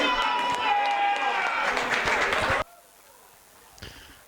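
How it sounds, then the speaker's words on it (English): Audience applause and crowd noise at a Taom Shootout pool event in Wigan, greeting the player nicknamed the bouncer. The sound is dense and loud, with voices over it, and it stops abruptly partway through, leaving quiet room tone. "let's give him a big round of applause"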